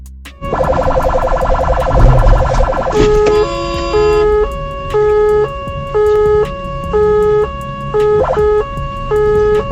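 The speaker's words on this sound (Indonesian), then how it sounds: "Kalau ada sirine tahan dulu Bu, jangan maksa masuk" A loud ambulance siren starts up and settles into a regular two-tone wail alternating high and low, close and continuous, on a road.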